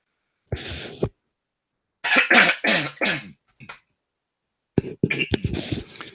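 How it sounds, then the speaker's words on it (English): Several harsh coughs in short bursts separated by silence, close and fairly loud, with a brief throat clear. "I've got a bit of a cough this morning."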